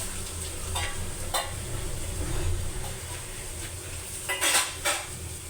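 Oil sizzles steadily in a pan while food fries down, with occasional clinks of a utensil against the pan, close by and with no talking.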